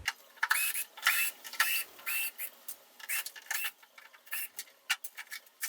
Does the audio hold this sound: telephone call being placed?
no